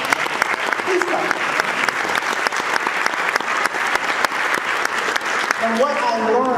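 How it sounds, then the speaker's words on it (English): Audience at a Hispanic Heritage Month opening ceremony claps steadily, dense applause from a crowd throughout, with some cheering voices rising near the end. "Please clap. Please clap."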